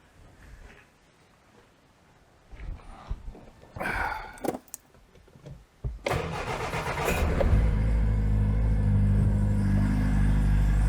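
A Citroen GSA is started on choke in a workshop. A few cranking bursts come first, then the engine catches and settles into a loud, steady idle rumble, with no talk over it.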